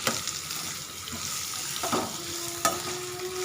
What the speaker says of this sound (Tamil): இப்போ வெங்காயத்தை நல்லா வதக்கி விட்டுக்கலாம்